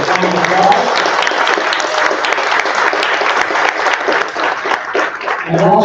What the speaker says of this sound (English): really good round of applause.